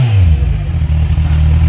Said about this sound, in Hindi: कार का एग्जॉस्ट टिप जो लगा है दैट लुक्स रियली ग्रेट और साउंड भी बहुत ज़्यादा बढ़िया दे रहा है